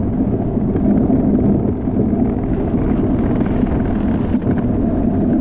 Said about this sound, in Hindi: बड़ी ज़बरदस्त हवा चल रही है।